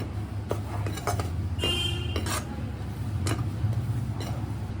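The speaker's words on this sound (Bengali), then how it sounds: "ময়দা মিশিয়ে ভালো করে বাটা রসুন সমস্ত ভালো করে যাতে মিশে যায়" Prawns being mixed with flour and garlic paste in a bowl for butter garlic prawns, giving soft clinks and scrapes of a spoon against the bowl, close and steady, with a low background hum and no talk.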